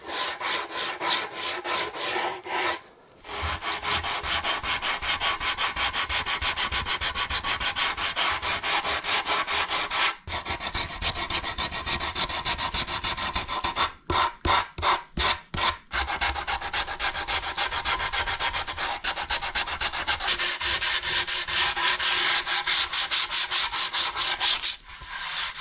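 Steady rough scrubbing as a coarse pad sands a wooden bass guitar body, a continuous close abrasive rasp broken by a few brief pauses and quick strokes.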